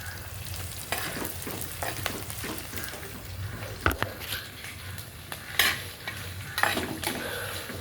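Chopped ingredients sautéing in a clay pot, soft frying hiss under a steady run of stirring scrapes and a few sharper knocks of the spoon against the pot.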